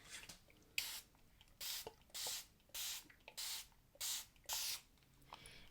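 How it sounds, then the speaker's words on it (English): Spray bottle misting water onto an ink pad: about eight quick hissing spritzes in a steady rhythm, each a short burst of fine spray, close and clear with faint handling noise between them. "I'm going to take a spray bottle and I'm going to put a nice hefty amount of water on this"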